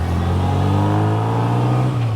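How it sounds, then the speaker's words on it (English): A 1960 Bugeye Sprite with its original engine revs through a new twin-tip performance muffler, a loud, steady close-up engine drone held throughout. "that's also the new exhaust that we put in, which is a twin tip performance muffler"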